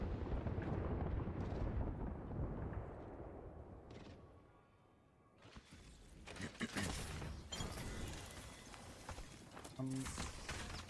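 Explosions from Bangalore's ultimate artillery strike in Apex Legends, a dense rolling barrage of booms and crackling blasts that swells loud at the start, dips briefly, then returns with scattered sharp impacts amid game noise and a talking voice.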